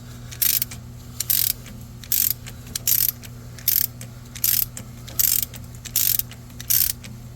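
A ratchet loosens a bolt on the 6.0-liter engine of a 2020 Chevy Express 3500 van, making evenly spaced clicking bursts about every three-quarters of a second against a low steady hum.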